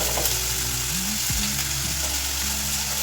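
Finely chopped onion frying with garlic in hot oil: an even, dense sizzle that holds steady throughout, with faint low tones underneath.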